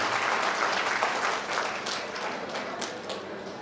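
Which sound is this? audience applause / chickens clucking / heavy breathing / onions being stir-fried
audience applause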